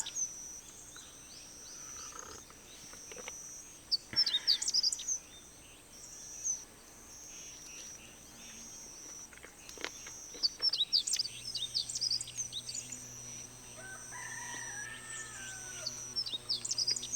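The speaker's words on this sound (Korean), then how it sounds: "새소리밖에 안 들려요." Birds chirp and sing in repeated bursts at a quiet campsite in Hoengseong, South Korea, moderately near, over a soft steady outdoor background with no talking.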